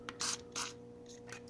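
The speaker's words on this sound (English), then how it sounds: "You can spray it directly onto the armature" WD-40 is sprayed onto the armature of a damaged Marx 595 toy train motor in two short, close hissing bursts, then a faint third.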